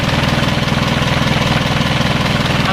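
An Isuzu 4HL1 diesel engine idles steadily up close, a loud even knocking chug with a fast regular pulse and no voices over it.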